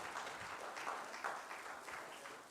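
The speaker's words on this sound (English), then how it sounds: "A big round of applause, please." Faint applause at a conference award ceremony for a first-prize winner, an even patter of many hands clapping heard from a distance for a couple of seconds.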